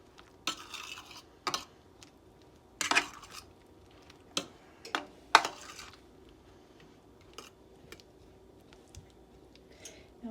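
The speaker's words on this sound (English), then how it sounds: "I'm just going to go in and give it a nice stir" Spoon stirring food in a pan during Thanksgiving meal prep, heard as a handful of sharp metallic clinks and scrapes spaced irregularly over quiet kitchen background, close and moderately loud.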